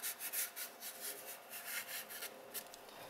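Fingers rubbing light pink paint across a landscape painting's surface, a steady close scratchy swishing in repeated strokes, fairly faint with no voices.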